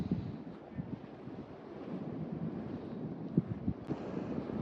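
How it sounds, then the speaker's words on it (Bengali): Ocean surf at Chilika sea beach, a continuous low rumbling wash of waves heard from somewhere behind the shore bank, steady and moderately faint with wind buffeting the microphone. "সমুদ্রের শব্দ শোনা যাচ্ছে, দেখা যাচ্ছে না।"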